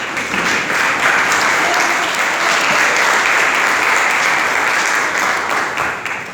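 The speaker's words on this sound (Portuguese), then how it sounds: "Você pode assentar aplaudindo Jesus bem forte." A church congregation applauds loudly during a worship service, a dense, sustained wash of clapping from many people at close range, holding an even level before easing slightly at the end.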